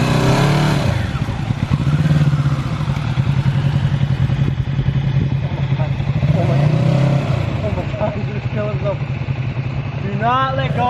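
A 2020 Kawasaki Z650 motorcycle engine idles close by, then rises in pitch a few times as the clutch is let out and the bike creeps forward, with people talking over it.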